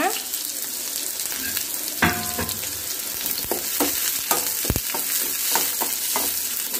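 Small onions sizzle steadily in hot oil while cooking okra stir-fry, with intermittent scraping and stirring sounds from a utensil against the pan.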